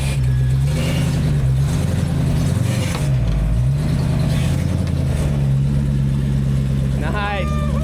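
Off-road truck grinding slowly over rough, rocky terrain with a steady low engine drone that swells as it revs, loud and close throughout, while voices talk over it and a brief rising whine comes near the end.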